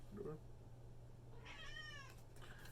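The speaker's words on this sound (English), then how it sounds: "The cat got in here." A cat meows indoors in a single drawn-out, wavering call, fairly close and moderately loud over a steady low hum, with a brief voice-like sound just before it.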